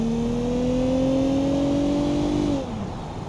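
A steady, loud car engine drone in the BeamNG.drive driving video game holds a rising pitch as if accelerating, then drops off sharply near the end as it eases off.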